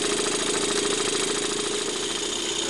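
A Luton Bowman BM valveless steam marine engine, fed by a Stuart boiler, runs steadily with a fast, even mechanical chuffing and rattle that holds at one loud level throughout.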